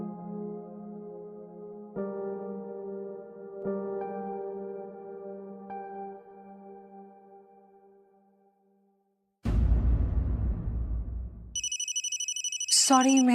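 A phone rings indoors in a repeating electronic ringtone pattern, several rings fading in level, before a loud burst of other noise and a shrill tone; no speech.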